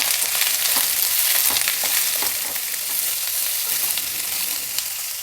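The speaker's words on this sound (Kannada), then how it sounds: "ಸ್ವಲ್ಪ ಮೀಡಿಯಮ್ ಫ್ಲೇಮ್ ಇಟ್ಕೊಂಡು ಫ್ರೈ ಮಾಡಬೇಕು, ಇಲ್ಲಾಂದರೆ ಈರುಳ್ಳಿ ಬಣ್ಣ ಚೇಂಜ್ ಆಗಿಬಿಡುತ್ತೆ" Chopped onions fry in a pan with mustard seeds and dals, a steady close hiss of sizzling oil with light scraping stirs scattered throughout and no voices.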